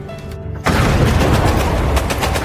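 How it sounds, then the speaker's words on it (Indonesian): A hideout blows up in a war film, a sudden loud broadband blast that follows quieter ambience and then rolls on as a sustained, heavy rumble with crackling debris. "hingga Westerling pun meledakkan tempat itu"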